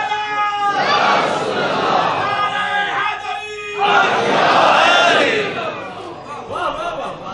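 A crowd at an Islamic religious gathering loudly chants religious slogans in unison. Two strong surges of many voices rise and fall, then the sound trails off near the end.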